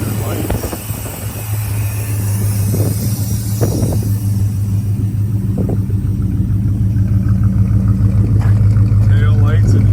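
A 1972 Chevrolet Monte Carlo with a 350 V8 idles with a low, steady rumble close by, a constant deep hum underneath while someone talks over it.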